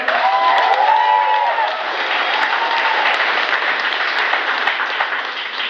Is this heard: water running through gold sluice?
no